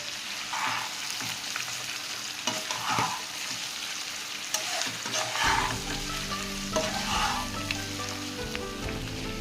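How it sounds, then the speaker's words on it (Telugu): Curry masala with goat meat being stirred and tossed in a sizzling pan, with continuous frying hiss and repeated scraping strokes of the spoon, close and fairly loud, without speech. "కింద నుంచి పైకి బాగా కలుపుకోవాలండి బాగా కలుపుకుంటేనే ఆ మసాలా ముక్కకెక్కి చాలా బాగుంటుంది"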